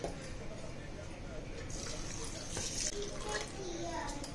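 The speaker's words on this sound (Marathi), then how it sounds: "तांदूळ हाताने असं स्वच्छ धुवून घ्यायचे" Basmati rice being washed by hand in a bowl of water for vegetable pulao, with close, continuous sloshing and squishing of wet grains under a speaking voice.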